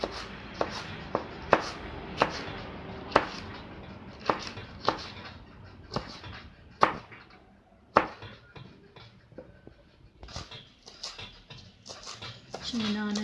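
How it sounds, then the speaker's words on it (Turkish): Knife chopping green peppers on a cutting board while making lahmacun at home, sharp irregular knocks in quick bursts, close and fairly loud, with someone talking over parts of it. "biberimi doğruyorum"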